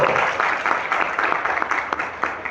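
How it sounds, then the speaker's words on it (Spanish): Applause from the audience at a national optometry congress, a dense, steady patter of many hands clapping that carries on for the whole moment without pause. "Un grande aplauso"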